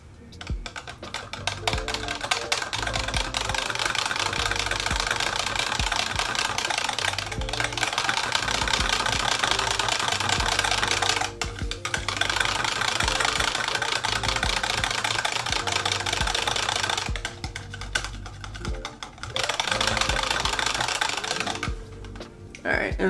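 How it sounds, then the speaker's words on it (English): Cold-process soap batter made from 100% coconut oil is whisked in a pot, giving a fast steady scraping and clattering rattle that runs for a long stretch with brief pauses while a person talks. "I'm going to whisk this in here."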